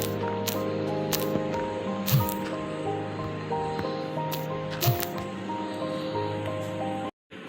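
Water poured in the Minecraft video game gives a steady, close splashing rush with a couple of brief squishy bursts, running continuously before cutting off abruptly near the end.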